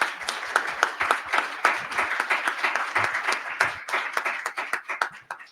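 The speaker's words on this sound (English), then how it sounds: "So I just want everyone to give another small round of applause for our opening ceremony speakers." Audience applause at a Model United Nations summit opening ceremony, a moderately sized crowd clapping steadily with crisp, dense hand claps throughout, heard from within the room.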